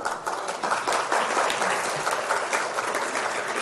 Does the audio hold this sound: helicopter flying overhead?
no